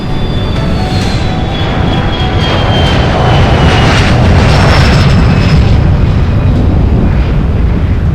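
An airliner touches down at very high speed with its engines roaring, a heavy, continuous rumble and rush that stays loud throughout, with a faint whine gliding above it. No voices are heard.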